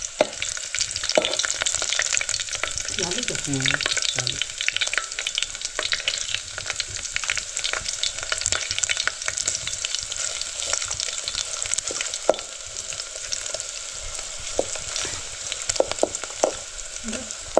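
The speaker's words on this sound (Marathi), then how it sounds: "डायरेक्टली फोडणीलाच मसाले वगैरे टाकतो" Chicken with village goda masala spices sizzling in hot tempering oil over a new clay wood-fired stove, a steady loud crackle with spoon scrapes and stirring, a brief spoken word near the start.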